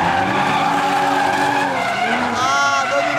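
Cars racing on a track with tires skidding and squealing, a loud continuous roar of engines and rubber, as excited voices talk over it.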